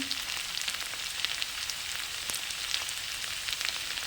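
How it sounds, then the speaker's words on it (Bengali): Spices and potatoes frying in a pan for a Bengali egg dish, a steady close hiss and sizzle with small crackles and a faint scrape or two, no speech. "আলু দিয়ে ভালো করে কষিয়ে নেব।"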